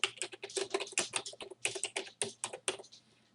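Fingers type a title on a computer keyboard in quick irregular bursts of crisp key clicks, close and clear, slowing to a few final taps.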